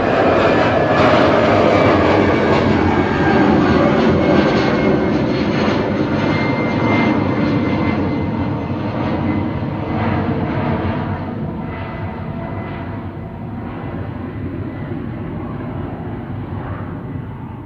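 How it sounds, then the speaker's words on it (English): An Airbus A319 jet takes off at Manchester Airport, a loud, steady broadband engine roar that fills the whole clip and eases slightly as the aircraft pulls away, with no voices. "There's a jet on the roll to somewhere."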